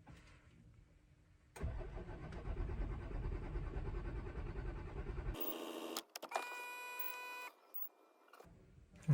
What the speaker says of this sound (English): Let's just give it a bit of a crank and see.